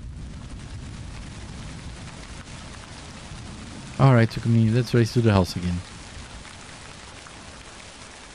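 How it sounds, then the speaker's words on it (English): Steady rain patters on surfaces outdoors, a continuous hiss across the whole stretch, with a short burst of speech rising briefly over it midway. "And of course it's starting to rain."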